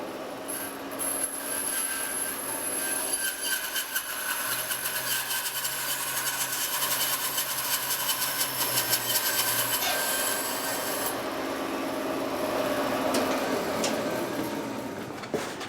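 A wooden strip for a table, roughly cut to length with a saw in a woodworking shop: a continuous rasping, grinding cut that runs steadily for about sixteen seconds, close and loud, with no voices.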